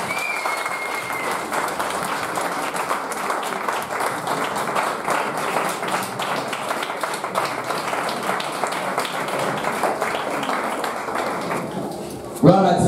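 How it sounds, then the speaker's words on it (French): A church congregation applauds Jesus in steady, sustained clapping throughout, with voices mixed in and a louder burst at the very end. "On peut acclamer le Seigneur Jésus."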